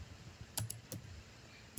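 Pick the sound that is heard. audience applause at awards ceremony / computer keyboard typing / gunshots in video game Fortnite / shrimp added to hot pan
computer keyboard typing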